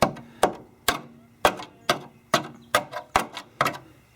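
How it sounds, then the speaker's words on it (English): A tool pokes and taps the rusty metal heater channel of a 1973 Porsche 914, giving about ten sharp, close knocks in a steady rhythm, each with a short hollow decay. "I think what I'm poking is actually our friend, the heater channel"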